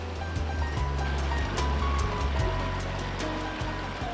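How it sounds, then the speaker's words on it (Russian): Adyl-Su mountain river in the Caucasus near Elbrus tumbling over yellow, rust-stained stones fed by iron-rich mineral springs, heard as a steady, close rushing wash of water with no breaks, under a low continuous drone. "Река Адыл-Су течет среди желтых камней"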